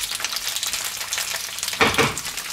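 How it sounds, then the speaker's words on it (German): Fried potatoes with bacon and onions sizzle steadily in a hot pan, a continuous close crackle that swells briefly as the food is stirred or moved, with no voices. "lassen wir die jetzt erstmal ein bisschen anbräunen, anknuspern, anbraten."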